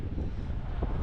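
Sea breeze rushes past by the seaside in Lisbon, a brief, low, steady blustery rumble of wind alone.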